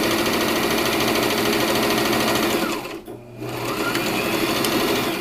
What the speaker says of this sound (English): and now double stitch